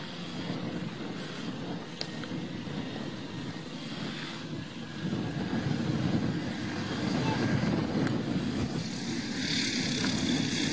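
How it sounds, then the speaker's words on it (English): A loud airplane engine roars steadily, swelling in intensity as the aircraft rolls along the runway during an aborted takeoff, with a harsh mechanical drone throughout. "This pilot aborting a takeoff just before they were about to lift off."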